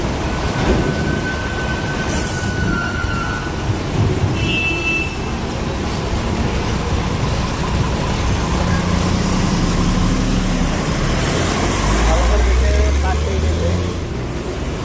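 Steady stream of trucks and cars rolling through a highway toll plaza at Navsari, a continuous broad engine and tyre roar with heavy low rumble swelling near the end, people talking faintly underneath.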